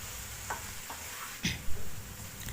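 Chicken frying in oil with tomato paste, a steady close sizzle broken by a few scraping stirs of a spoon through the pan, no talking.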